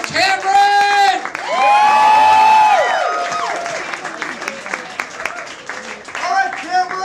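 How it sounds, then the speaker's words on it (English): An audience at a poetry slam claps, whoops and cheers loudly for a poet. The burst of shouts and applause is strongest early and then settles into scattered clapping under a host speaking. "Applaud the poet, applaud the score, and put your hands together for Cameron!"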